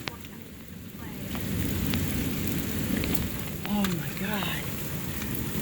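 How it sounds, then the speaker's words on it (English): Hail and heavy rain pelting down steadily in a hailstorm, a dense continuous patter with a few sharper impacts, while a person exclaims briefly in surprise. "Here's the hail."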